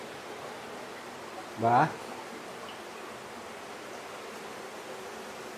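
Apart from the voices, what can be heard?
loud babbling water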